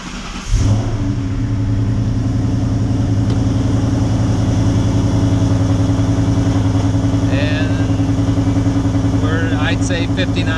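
A vehicle engine cranks and catches with a sharp start, then settles into a steady, loud idle close by, with faint clicks later.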